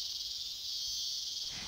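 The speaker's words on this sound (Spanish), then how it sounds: "Durante el día, el canto de los machos de las chicharras puede ser el sonido más dominante en el" Cicadas sing in a park by day, a steady, loud, high-pitched buzzing drone that holds unbroken throughout with no other sounds over it.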